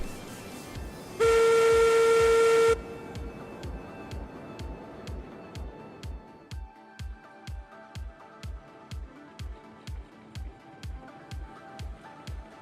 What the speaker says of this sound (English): at the sound of the whistle, subscribe